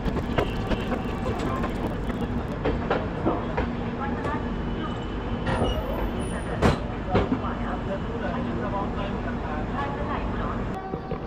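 The 13005 Amritsar Mail rumbles into Varanasi Junction with a heavy, continuous rolling roar and scattered sharp rail clacks, heard from inside the train with voices murmuring in the background.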